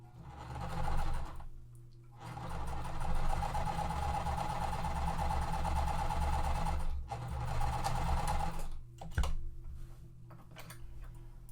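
A sewing machine runs in long steady bursts stitching die-cut quilt pieces, a close rhythmic whirring hum that stops briefly twice before starting again, with no one talking.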